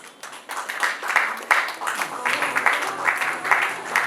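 Audience applause at a corporate cricket league awards ceremony, greeting a winner of the most runs and sixes award. Scattered clapping builds after half a second and continues steadily, moderately loud, with the audience clapping throughout.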